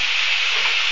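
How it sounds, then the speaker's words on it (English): Carrots, mushrooms and sweet corn stir-fried with bacon in a hot pan give a steady, close, loud sizzle with faint stirring, no voices. "we're just stir frying that all up"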